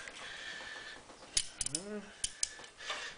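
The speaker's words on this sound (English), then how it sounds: "First, apply wrench." Wrench ratcheting and clanking against the drain fitting of a Rancilio Silvia espresso machine, a handful of sharp metallic clicks and knocks spread irregularly over a few seconds, close and moderately loud with faint voice sounds underneath.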